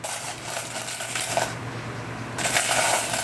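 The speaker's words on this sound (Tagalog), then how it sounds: "Barya-barya na lang po ito." Coins clatter and jingle as small change is dropped and handled, a dense metallic rattle running through the whole stretch with no talk over it.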